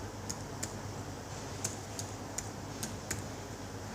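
Soft typing on a computer keyboard during circuit simulation work, with sparse, irregular key clicks, about seven or eight light taps over a steady quiet hum.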